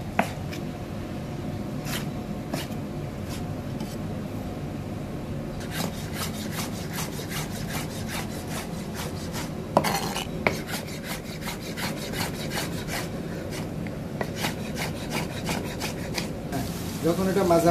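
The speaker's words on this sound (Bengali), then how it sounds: "ওকে, এখন আমি চিংড়িগুলোকে ছোট ছোট করে কেটে ফেলবো।" Knife cutting shrimp into small pieces on a board, a steady rasping, rubbing texture with scattered light taps, close and fairly quiet, under a constant low kitchen hum with no talk.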